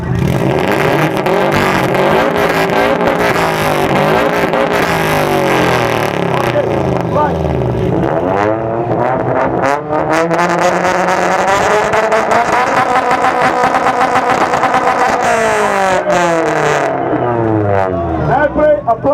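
A Subaru's exhaust revs loudly at an exhaust battle during the 2014 JAPmeet car meet in Ljubljana, Slovenia, the engine note sweeping up and down in repeated bursts while a crowd and voices sound around it.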